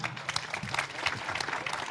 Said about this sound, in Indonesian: Tepuk tangan dulu Bang Parman.